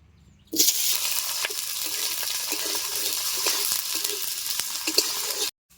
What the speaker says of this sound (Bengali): আমি এবার পেঁয়াজটা দিয়ে দিচ্ছি। তেল গরম হয়ে গেছে।